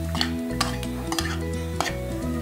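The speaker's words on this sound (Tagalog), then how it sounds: "Tapos po, halo lang po." Sardine sisig with chopped chili being stirred in a pan, a utensil scraping and clinking against the metal in several quick strokes over a steady low hum, close and moderately loud with no talking.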